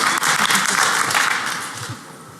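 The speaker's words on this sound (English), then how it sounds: "let's give a round of applause for that song as well" Dense applause from a conference audience at a security awards ceremony after a song, a broad wash of many hands clapping, loud then tapering off slightly.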